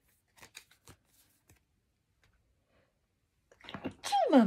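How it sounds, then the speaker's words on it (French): A single sharp sneeze bursts out at the end, loud and close, after a few faint clicks and rustles in near silence. "Pardon, j'éternue."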